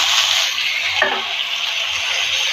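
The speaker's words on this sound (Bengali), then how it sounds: "এবার আবারও ভালোভাবে নেড়ে করে দিচ্ছি সবগুলো সবজি একসাথে দিয়ে" Mixed vegetables fry in a pan and are stirred, a loud, constant hissing sizzle with one faint scrape partway through and no voices.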